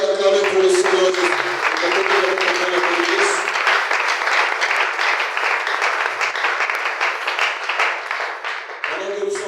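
A church congregation applauds and cheers for Jesus at a French-language service, sustained loud clapping with crowd voices that continues for several seconds before easing off.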